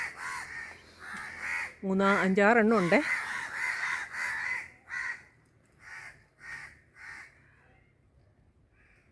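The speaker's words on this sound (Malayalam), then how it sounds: "ഈ കാക്കകളെല്ലാം കൂടെ എന്നെ കൊത്താൻ വരുന്നതെന്നാണ് തോന്നുന്നത്" Several crows caw loudly and insistently from nearby, one harsh wavering call standing out before a run of shorter, evenly spaced caws, while someone speaks briefly over them.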